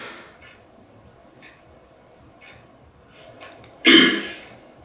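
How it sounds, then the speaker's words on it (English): One short cough from a man, sharp and close, breaking a near-silent room after a few faint murmurs. "I really like that cough that he did."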